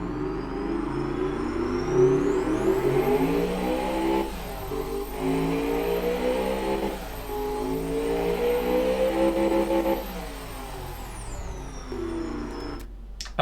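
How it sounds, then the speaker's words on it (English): A V8 engine of 568 horsepower and 427 foot-pounds of torque revs in the car-building game Automation, its pitch rising and falling through several sustained pulls over about thirteen seconds, loud and close with no talking. "But the engine, let me see the engine. It's a V8, 568 horsepower, 427 foot-pounds of torque."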